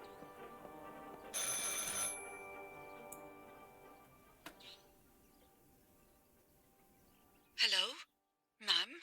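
In the horror game Martha Is Dead, a telephone gives one shrill, bright ring early on, followed by quiet ticking and then a couple of short spoken bursts near the end.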